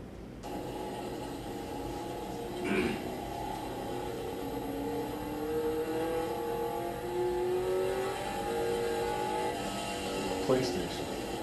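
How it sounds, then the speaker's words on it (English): A race car engine drones steadily on track from an onboard camera, rising and falling through gear changes with a brief sharper shift or two, constant and fairly loud throughout. "So this is a couple laps of what it looks like inside a race car."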